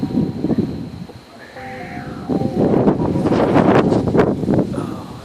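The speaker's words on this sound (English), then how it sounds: "It's hard to do when the wind's blowing" Wind buffets a microphone outdoors, producing a loud, steady low rumble and gusty roar that rises and falls throughout, with a faint distant tone in the background.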